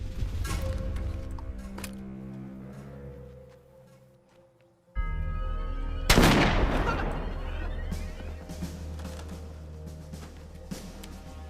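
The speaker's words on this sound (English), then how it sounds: "The rest of you be ready to provide covering fire on my command." Covering gunfire erupts in an American action film, a loud sharp blast followed by sustained rumbling fire and reverberation, set against a droning musical score.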